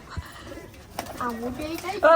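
A pet pigeon in Rajkot, Gujarat, gives soft throaty coos near the microphone, mixed with a person talking over and around the calls.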